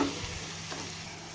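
Onion and chili paste frying in oil, giving a brief, steady hiss and soft crackle at a low, even level with no other sounds.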